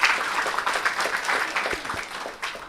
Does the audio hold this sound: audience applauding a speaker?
yes